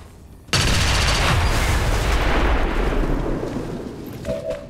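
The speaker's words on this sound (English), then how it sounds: "we're now placing a Claymore. It requires patience. Which we will then blow up with Templar Logan" A Claymore mine in the video game XCOM 2: War of the Chosen bursts into a loud, sudden explosion after a moment of quiet, then rumbles and fades, with a faint game tone near the end.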